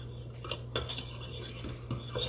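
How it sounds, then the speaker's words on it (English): A Dutch whisk stirs dry ingredients for cranberry nut bread in a bowl, giving light metallic clinks and scraping taps at irregular intervals over a low steady hum, close and quiet, with no talking. "we're going to just stir that together to blend it well"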